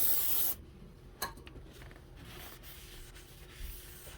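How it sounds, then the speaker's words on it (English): A short burst of brake cleaner sprays onto a 2003 Ford Explorer Sport Trac brake assembly, followed by soft, steady rubbing as a rag wipes the surface clean up close. "I'm just taking some brake cleaner, spraying it down, and then a rag, and wiping it off"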